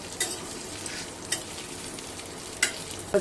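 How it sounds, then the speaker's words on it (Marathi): A batch of fresh green pea snack fries in a pan with a steady crackling sizzle, punctuated by a few sharp clinks of a spoon stirring against the pan. "दुसरी बॅच देखील मी फ्राय करून घेत आहे"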